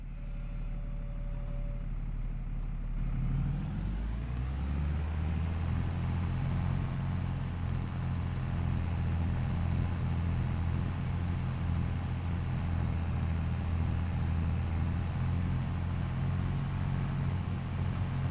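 A high-end tractor engine in a farming simulator game starts up and settles into a steady, loud, continuous drone that runs without any talk.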